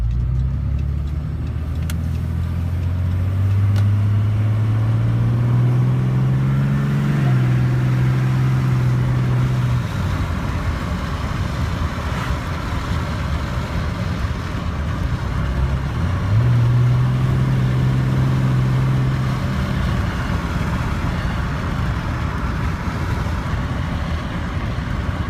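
Dodge Ram 3500 dually pickup with an Allison transmission driving, engine rumbling low and rising through gears, dropping back, then climbing again, steady and close from inside the cab.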